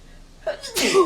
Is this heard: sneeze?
yes